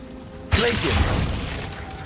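Glacius freezing spell cast in Hogwarts Legacy, a sudden bright crackling icy burst that starts sharply and trails off into a shimmering fade.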